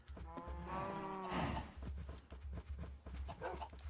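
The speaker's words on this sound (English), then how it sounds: "Wait, so now there's just a limit for cows?" Cows in Minecraft moo repeatedly with low, overlapping calls, several animals lowing close together, with some quieter shuffling between the moos.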